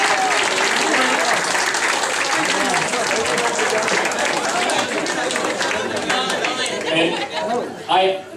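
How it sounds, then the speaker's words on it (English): Applause from a crowd at a football club awards night, dense clapping mixed with lively chatter that gradually thins out toward the end. "let's give them a round of applause and welcome them on the night"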